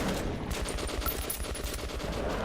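Rapid automatic gunfire rattles on steadily in the shooter game Metro 2033 Redux, a continuous, close, fairly quiet volley with no talk.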